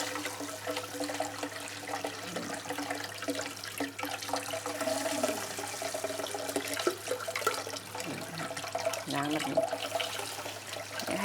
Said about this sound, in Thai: ให้ผ่านน้ำอย่างนี้นะคะ แล้วก็ล้างทีละอัน แต่ไม่ต้องขยี้นะคะ